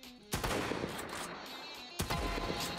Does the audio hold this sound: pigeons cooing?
no